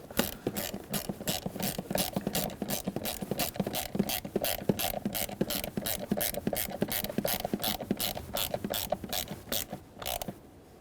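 A ratchet wrench tightens the screws on a blower motor assembly of a 1995-2004 Toyota Tacoma HVAC system, giving a fast, steady run of close, loud clicking strokes that continues for about ten seconds before stopping.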